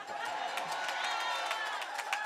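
Crowd at an outdoor No Kings political rally in Morristown, New Jersey, cheering and clapping in a steady, dense wash of applause and shouts, moderately loud and continuous throughout.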